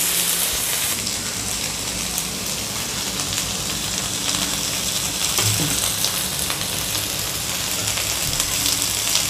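Masala-coated vanjaram fish fries in a pan over medium heat, giving off a steady, even, rain-like sizzle that stays loud and close throughout, with a faint clink midway.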